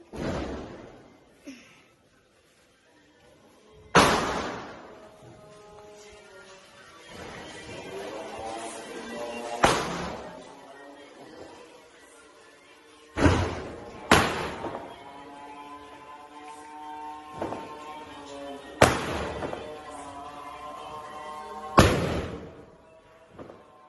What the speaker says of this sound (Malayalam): ഇപ്പം പടക്കാണ് പൊട്ടിക്കുന്നത്.